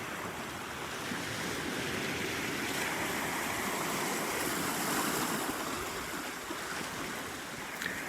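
Ocean surf of about three-foot waves rolls onto Pawleys Island beach, giving a steady, close, loud roar of breaking water with some wind rumble on the microphone and no talking.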